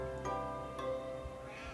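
A pet cat meows in short, tonal, drawn-out calls, two clear cries a moment apart with a softer fainter sound trailing after, close but quiet.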